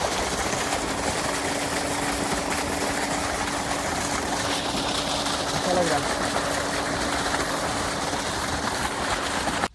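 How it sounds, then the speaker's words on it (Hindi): A farm water pump engine runs steadily in a field, a continuous droning rattle with a low hum, while someone speaks briefly over it. "तो भी चलते हैं इंजन के पास, इंजन चलाएंगे"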